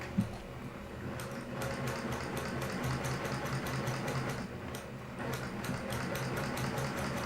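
A sewing machine stitches fabric pieces for a scrap quilt, running steadily, its rapid mechanical stitching rhythm continuous throughout with a light ticking rattle, no voices.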